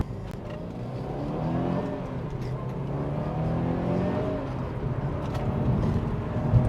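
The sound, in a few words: JDM Subaru Impreza STI GVB sedan driving and accelerating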